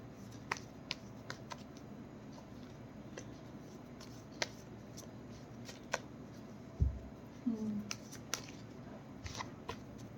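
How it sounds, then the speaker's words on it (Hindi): Cards are shuffled and drawn from an animal deck, soft quiet flicks and snaps scattered irregularly, with a brief low thump and rustle near the end. "कार्ड जो हैं एनिमल डेक से भी लेंगे"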